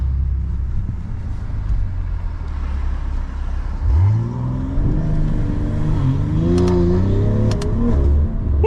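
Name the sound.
BMW M340i xDrive with XHP tune accelerating at launch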